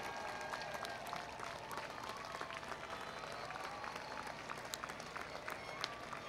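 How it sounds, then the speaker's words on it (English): Graduates and families applaud at an evening college graduation ceremony, a dense, steady wash of clapping from a large crowd that holds for the whole span. "let me ask the graduates to applaud"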